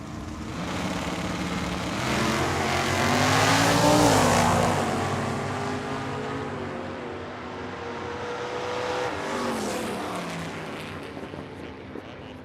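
At Tucson Dragway a classic pickup and a Camaro drag race, engine roar swelling loud then easing into a lower rumble with a second rise, heard from the track side.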